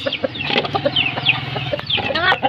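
Chickens cluck steadily in a backyard poultry pen kept alongside pigeons, with overlapping short calls from several birds up close and a busy, continuous flock chatter.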